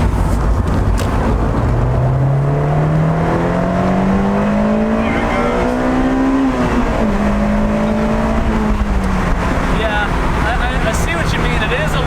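An Acura RSX engine revs up steadily with a rising pitch, dips briefly, then holds a high drone near the car, mixed with broad road and wind noise. A voice speaks briefly under it.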